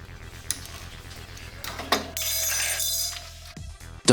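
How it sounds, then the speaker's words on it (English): An adjustable wrench works a rear shock bolt loose on a Moto Guzzi Nevada, Breva or V7, giving quiet metallic clicks and clinks followed by a brief grinding, ratcheting stretch over a low background hum. "I don't have the right wrench, so I use an adjustable wrench"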